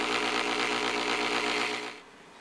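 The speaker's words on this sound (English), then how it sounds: "one of the goals is to get this engine to run, or this motor to run, on less power than it normally would." A Lynx Joule motor runs with a steady, loud mechanical whir and hum for about two seconds, then its level drops to a quieter hum near the end.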